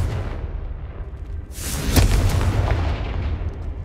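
Confringo fire-blast spell in Hogwarts Legacy, a sudden loud explosive crack after a moment of low rumble, followed by a crackling, rumbling decay.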